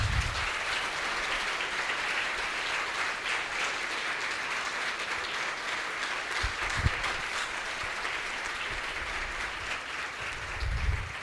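Steady applause from a large church congregation, a continuous wash of clapping that holds at an even level throughout.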